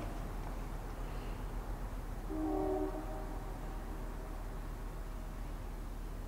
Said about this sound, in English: Gotta love trains.